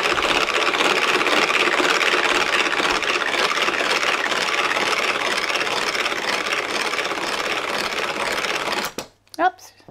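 Tupperware Speedy whisk beating egg whites at speed 1, a steady close whirring rattle that runs continuously and then stops abruptly, with someone talking over it.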